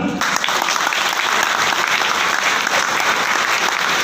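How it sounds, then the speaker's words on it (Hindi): Steady, dense applause from a large audience at a motivational business talk, filling the whole stretch at a loud, even level with no speech on top. "ताली तो बजाओगे?"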